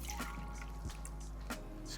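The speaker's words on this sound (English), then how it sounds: "I'm going to drain those chilies." Water drains from softened dried chilies in a kitchen, with faint scattered drips and trickles over a steady background hum.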